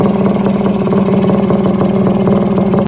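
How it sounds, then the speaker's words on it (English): A vintage Suzuki RM 125 two-stroke motorcycle running through its original exhaust pipe, a loud, steady, raspy idle with a rapid pulsing growl that holds for about three seconds before cutting off sharply. "This is the pipe that belongs to this bike, and it sings. It's got a real little growl."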